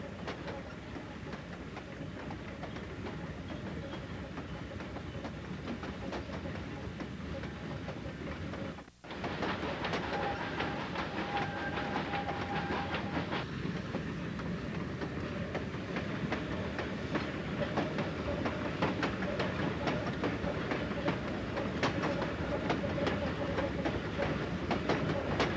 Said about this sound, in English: The train continues down State Line Hill.